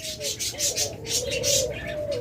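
Diamond doves coo in soft, repeated low notes close by, several short calls in a loose rhythm, with faint chirps and background murmur behind them.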